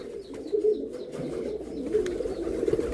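Pigeons cooing close by in soft, low, throaty repeated calls that roll on continuously, with a few faint higher chirps in the background.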